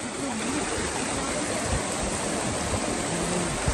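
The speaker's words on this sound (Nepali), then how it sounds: "खोला आएर यहाँ मिसिने रहेछ" A small hill stream rushes steadily into a river in an even wash of flowing water, close and constant, with a faint voice underneath.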